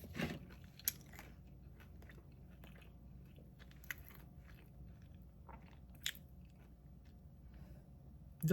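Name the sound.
biting and chewing crispy toasted food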